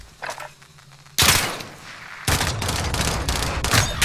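Bursts of rapid video game gunfire, a fusillade of shots that cuts in sharply after a quiet stretch, then a second sustained loud volley rattling on for nearly two seconds, close and harsh.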